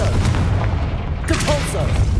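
Confringo spell cast in a Hogwarts video game sets off a loud, booming blast with a deep rumbling low end that carries on through the whole moment.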